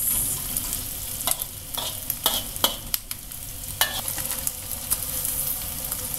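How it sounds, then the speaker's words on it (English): Onions and curry paste frying for a vegetable curry, a close steady sizzle with repeated scraping strokes of a spoon stirring in the pan, no voices. "we basically cook until the onions become a little bit softer, and then we will add in the"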